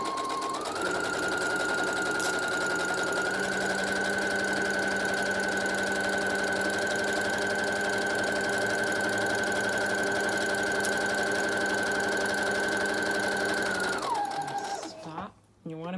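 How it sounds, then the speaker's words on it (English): A sewing machine runs steadily for about fourteen seconds, top-stitching a Halloween treat bag on the right side of the fabric, a continuous whirring hum that winds down near the end followed by brief handling noise. "we're just going to sew it on the right side. So it'll be pretty much a top stitch"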